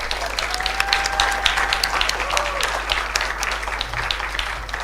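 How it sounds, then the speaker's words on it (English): Audience applause in a hall at a design forum, welcoming a moderator onto the stage: steady, dense clapping from a sizable crowd, fairly loud and sustained throughout, with a faint tonal whistle drifting over it. "Give her a round of applause."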